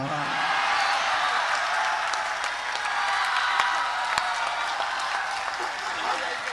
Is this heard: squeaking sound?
no